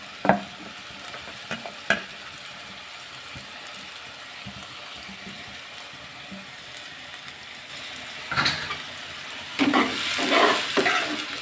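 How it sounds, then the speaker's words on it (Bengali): Chopped garlic, ginger, whole garlic cloves and chicken sizzle in a pan for a papaya chicken curry, a steady close frying hiss. Scattered utensil clicks come through, and louder scraping stirs build near the end. "সবগুলো একসাথে দিয়ে নাড়তে থাকবো একটু।"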